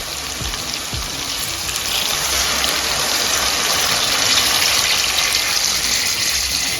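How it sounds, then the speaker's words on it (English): Water pours steadily into half a kilogram of rice being prepared for beef pilau, a continuous close gush lasting several seconds without pause. "in half a kg of rice we are adding 2 cups of water"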